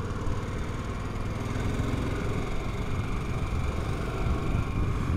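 Steady engine drone from a 2023 Harley-Davidson Pan America motorcycle while riding, a continuous loud hum with road and wind noise underneath and no noticeable changes in pitch.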